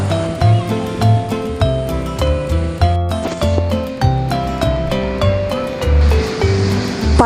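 Sea waves at high tide wash steadily against the shore in a continuous loud roar, with tonal music playing over them throughout.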